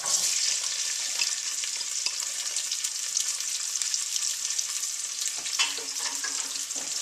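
Onions hit hot olive oil in a pan and fry with a bright, steady sizzle and crackle, with a clatter of stirring near the end; close and continuous, no talk.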